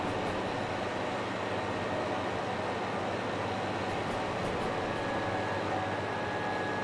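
Constant loud engine drone heard from inside a train cab in a railway game, a dense unchanging rumble with a faint steady whine joining near the end and no talking.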